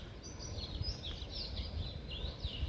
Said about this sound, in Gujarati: ને પક્ષીઓ જો કલરવ કરે છે ઝીણો ઝીણો અત્યારે